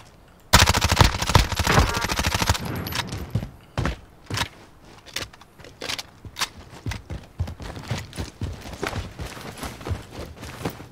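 Sustained machine-gun burst in Call of Duty Warzone, a loud rapid roll for about two seconds, then scattered single shots and footsteps-like knocks trailing off quieter.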